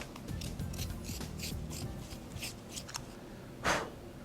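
A #2 pencil turns in a handheld twist sharpener, making soft, rhythmic, close scraping and rasping strokes, with a brief louder scrape near the end.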